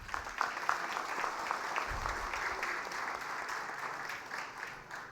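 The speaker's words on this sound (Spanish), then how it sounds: "Quiero que le den un aplauso al Señor por la vida de ella." A church congregation applauds for the Lord, a steady, moderately distant wash of clapping that holds evenly for several seconds with no talking.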